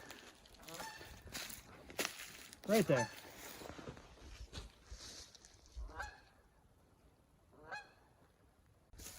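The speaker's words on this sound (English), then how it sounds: "Geese out there somewhere." A few short goose honks sound at a distance in open air around sundown, with someone talking quietly before and after them.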